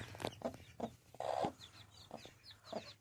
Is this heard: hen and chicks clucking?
yes